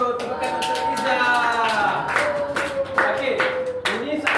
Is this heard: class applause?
yes